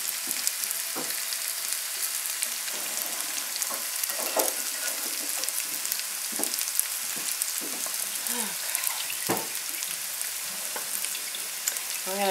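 Broccoli sautéing in oil in a hot pan gives a steady, close, loud sizzle and crackle for the whole stretch, with scattered pops and stirring scrapes and no talking.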